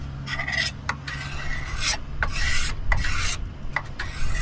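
A blade scrapes polyurethane finish off a wooden knife handle on a Cold Steel Trail Boss, giving repeated close, rasping strokes in an uneven rhythm with brief pauses between passes.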